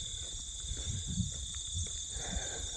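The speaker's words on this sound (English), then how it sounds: "you can hear a lot of crickets" Steady, high-pitched chirring of many crickets outdoors, a continuous insect drone with soft rustling and low noises beneath it.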